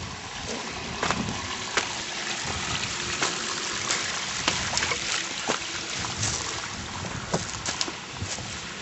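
A small outdoor stream spills over a little waterfall, a continuous broadband rush with scattered splashy spikes, steady and moderately close.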